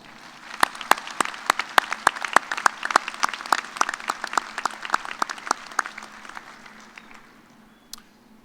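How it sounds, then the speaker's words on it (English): Commencement audience at a fall engineering graduation applauds graduates' families and friends, a dense burst of many hands clapping with sharp individual claps that thins out and fades over several seconds. "Graduates, join me in giving your loved ones a big and well-deserved round of applause."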